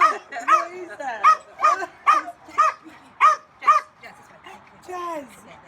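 A rescued dog gives a run of deep, honking, foghorn-like barks, about eight in a steady rhythm, close and loud, ending in a drawn-out whining yowl.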